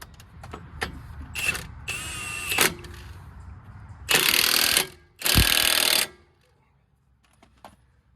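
A bolt with thread locker being tightened on a 2 inch BDS leveling kit for a 2017-2019 Super Duty truck, with several loud rattling bursts from an impact wrench, two long and two shorter, separated by quiet gaps.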